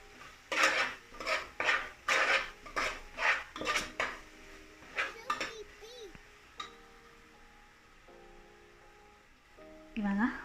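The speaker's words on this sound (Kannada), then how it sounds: "ಗರಂ ಮಸಾಲನ ಹಾಕ್ತಾಯಿದ್ದೀನಿ. ಚೆನ್ನಾಗಿ ಫ್ರೈ ಮಾಡ್ಕೊಳ್ಳಿ." Garam masala is stirred into a pan for pea pulao, with a run of rhythmic metal clanks and scrapes of a spoon against the pan, then a quieter stretch with a few faint voices.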